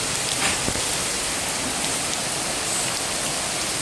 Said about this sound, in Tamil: மழை அப்படி பிச்சுக்கிட்டு போகுது பாருங்கள் கீழே பாருங்கள்